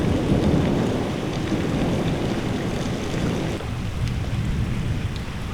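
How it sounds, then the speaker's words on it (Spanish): A night thunderstorm in the mountains brings loud, continuous rain with a deep rolling rumble of thunder and a wash of wind throughout, and no voices. "Esa noche nos dormimos con el sonido de la tormenta"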